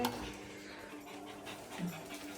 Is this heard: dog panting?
yes